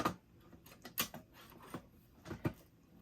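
A NuBus card sliding down into its slot inside a recapped Macintosh IIsi, heard as soft scraping and a few sharp plastic clicks and knocks, close and fairly quiet.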